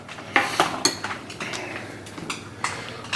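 A big spoon scooping thick peanut butter for a protein pudding, giving a few soft scrapes and clinks against the container, close and fairly quiet with no talking.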